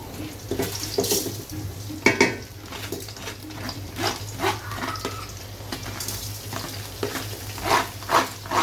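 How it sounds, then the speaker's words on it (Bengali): Rice grains poured into a pot of water mixed with powdered milk for Bangladeshi shahi polao, giving soft splashing and stirring sounds with a few sharp clinks against a steady low hum. "তো এখানে হচ্ছে গিয়ে আমি চালগুলো দিয়ে দিচ্ছি।"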